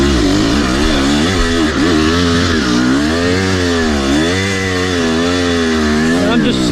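A Kawasaki KX250 dirt bike's engine revs hard while its rear wheel spins on a slick hill, the loud, close whine rising and falling continuously.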